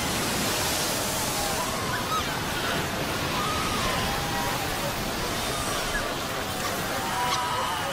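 Ocean waves wash in with the incoming tide along a shore, making a steady, dense roar of surf that holds at an even level throughout, with no talking.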